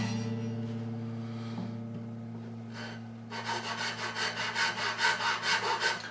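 A file or small saw deepening a nut slot on an acoustic guitar, first light scraping, then a run of quick, even back-and-forth rasping strokes, close and alone over a steady low hum.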